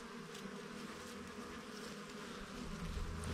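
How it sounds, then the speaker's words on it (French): Many bees foraging on a flowering boxwood shrub make a steady, dense buzzing hum that grows slightly louder toward the end, with no talk. "il y avait beaucoup d'abeilles."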